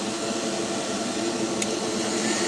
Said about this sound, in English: let me go ahead and hit this first one with the hair dryer